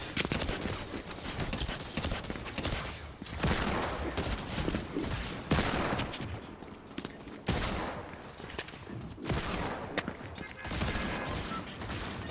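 Rapid, dense gunfire from the Fortnite video game, heavy continuous bursts of shots with brief pauses, loud and close throughout.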